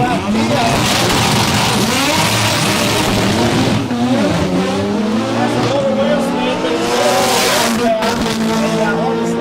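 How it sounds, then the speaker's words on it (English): Billet-class drag race cars at a Buznats event roar with heavy wheelspin, their loud engines and screeching tires forming a continuous, close-up howl while a commentator talks over the noise. "Murderous wheel spin for both competitors"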